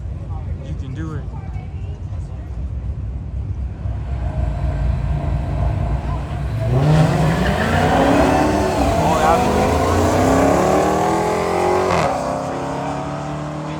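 Audi TT RS launching down a quarter-mile drag strip, engine noise rising steadily as it accelerates past with crowd chatter and voices around it, loud and close, with a shift-like break near the end.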